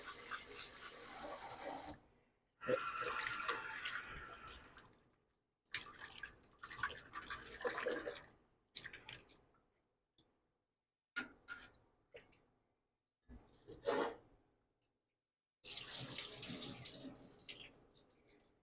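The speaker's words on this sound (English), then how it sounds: "Keep adding fresh hot water." Hot water runs from a tap into a sink while sausage casings are rinsed, coming in bursts of splashing flow separated by silent pauses, with rubbing and dripping close by.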